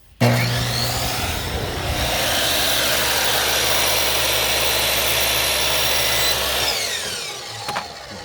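A compound miter saw cuts crown molding for an outside corner, with the blade set at 45 degrees. A loud, steady motor whine and cutting noise runs for about seven seconds, then winds down near the end.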